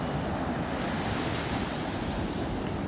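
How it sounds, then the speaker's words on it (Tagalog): Strong sea waves surge up a beach at Noja, Cantabria in Spain, a dense continuous roar of surf mixed with wind buffeting the microphone, loud and close with no talking. "Grabe talaga yung alon, Ang lakas."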